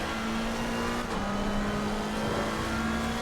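Race car engine in Assetto Corsa Competizione, a steady sustained drone holding one pitch with a brief dip partway through, loud and continuous with no voices.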